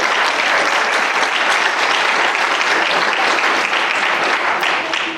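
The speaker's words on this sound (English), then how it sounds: "Clap it up for Miss Jamie Godwin." Audience applause for a Hope, Arkansas athletic Hall of Fame inductee, loud sustained clapping from a large crowd, dense and even across about five seconds.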